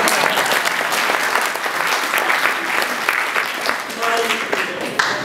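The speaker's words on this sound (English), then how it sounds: "You can clap if you like." An audience at a Gold Coast political speech claps together, loud and continuous, with a few voices mixed into the clapping.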